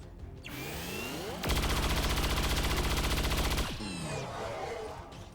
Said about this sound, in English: Let's just shoot him then.